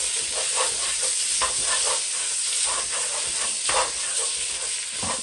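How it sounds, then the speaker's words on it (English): A metal spoon scrapes and clinks around a metal pot of bubbling oxtail stew, steady stirring strokes over a constant loud sizzling hiss, close up with no talk. "And I know people don't like to hear metal on metal. Just get over it. Stir that around."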